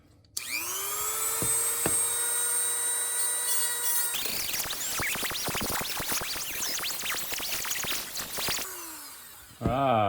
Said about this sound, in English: So we just burned a hole with the blade through the center of them